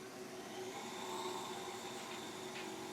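A Precision Matthews PM-949T-6EVS milling machine's spindle runs up in speed, a steady whirring hum holding at a constant level with a faint high tonal whine, close and alone with no talk.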